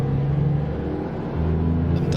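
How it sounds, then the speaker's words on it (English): A 1971 Cummins Super 250 truck engine in American Truck Simulator drones steadily at a deep, low idle-to-cruise rumble, its pitch shifting slightly midway as the load changes, loud and continuous with no talk. "under the hood today we have a Cummins Super 250"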